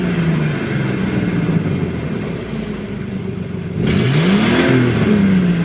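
A 1998 Ford Explorer with a 4.0 V6 revs from inside the cab, the engine note rising and falling under a steady idle, then a louder, harder rev sweeps up and back down near the end, close and loud.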